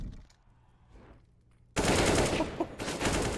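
A loud, dense burst of rapid CS:GO gunfire erupts after a quiet opening on the Mirage map during a BIG versus Young Ninjas match, with shots packed closely together.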